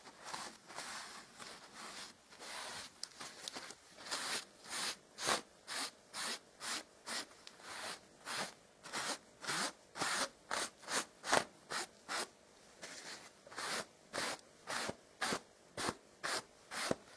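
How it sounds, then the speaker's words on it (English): A damp cloth wipes back and forth over a surface in a steady rhythm of soft, close rubbing strokes, quiet between passes and speeding up toward the end. "Now with a damp cloth, just wipe over this surface."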